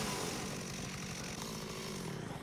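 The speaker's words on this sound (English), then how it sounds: "Oh, another small chainsaw." Small chainsaw revving in the video game Dead Rising Remaster, a dense buzzing roar that stays loud and steady throughout with no voices.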